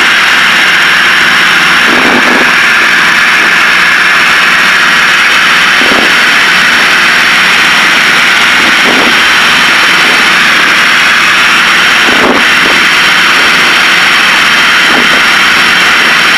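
Twin engines of a Piper Seneca running steadily at 2,400 RPM and 20 inches of manifold pressure, heard as a loud unbroken cockpit drone with a few faint clicks over it.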